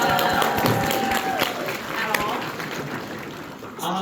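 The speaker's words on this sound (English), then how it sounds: "Can we give a round of applause for our moderator who we haven't met?" Convention audience at a Helluva Boss Q&A applauding the moderator, a dense, steady patter of many hands clapping at moderate distance, with voices and cheers mixed in throughout.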